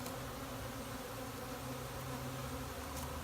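Honey bees from an installed package hum in a dense, steady drone as they move into a closed-up hive, the buzzing continuous and close throughout.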